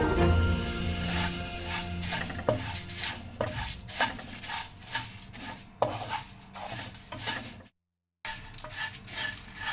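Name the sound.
stirring roasted flattened rice (aval) in pan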